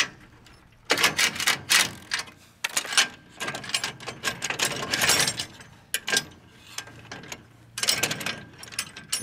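A wrench loosens the mount on a Reese trailer swivel jack fitted to a 5x8 trailer, giving bursts of fast ratcheting clicks, close and sharp, separated by short pauses.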